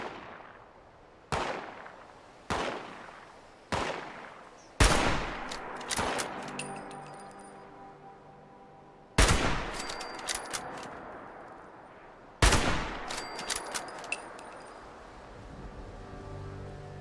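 Gunfire in a shooting video game: several sharp shots ring out at intervals, some single cracks and some quick clustered bursts, loud and close with reverberant tails and metallic clinks between, no talking.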